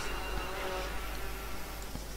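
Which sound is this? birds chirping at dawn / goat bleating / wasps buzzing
wasps buzzing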